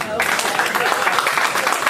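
A crowd claps and cheers together in a dense, sustained burst of applause lasting a couple of seconds.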